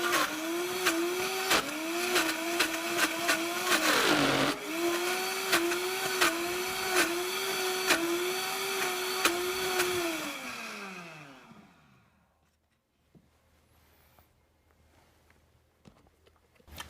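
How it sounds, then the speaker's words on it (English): A Vitamix Professional Series 750 blender churns frozen fruit into sorbet, a loud, close motor whine with rhythmic thumps as the tamper works, then winding down and stopping, leaving near silence. "Allow the machine to run and make sure to use the tamper to push the ingredients down."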